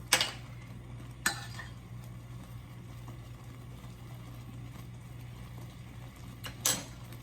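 Thick strawberry pie glaze is stirred in a pot on the stove, with a few sharp spoon clinks against the metal over a quiet, steady background hum.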